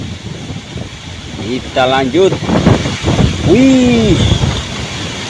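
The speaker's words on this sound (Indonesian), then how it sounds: "Wow, anginnya." Strong wind buffets the microphone on open water during a fishing trip, a rough continuous rush under a man's loud exclamations.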